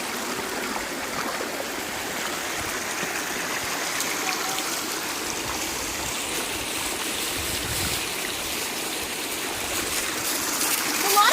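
Stream water flows over mossy rocks near a waterfall, a steady, full rushing and splashing that grows slightly louder toward the end, with faint voices underneath.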